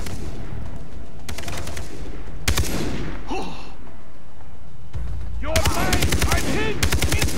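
Bursts of automatic gunfire in the shooter game Far Cry 3, loud rapid volleys with pauses between them and a brief voice among the shots.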